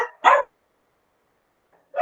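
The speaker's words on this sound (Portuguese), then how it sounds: "tem de cachorro latindo." A dog barks twice nearby, one short sharp bark and then another after a second of silence, heard at home with no talking over it.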